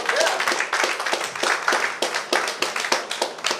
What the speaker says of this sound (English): A round of applause for Professor Liverpool